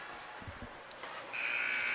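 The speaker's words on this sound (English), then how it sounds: "The buzzer sounds through 14 minutes of play." A period-end buzzer at a youth ice hockey rink sounds as a steady, loud electronic tone that starts partway through and holds to the end, after a stretch of faint arena noise.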